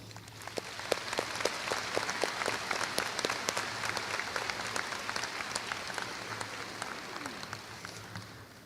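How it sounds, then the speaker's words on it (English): Steady, crisp applause from the audience at the 2025 Abraham Lincoln High School commencement, honoring teachers, with many individual claps standing out in a sustained round that slowly thins. "Let's show our immense gratitude for past and present teachers alike with a thunderous round of applause"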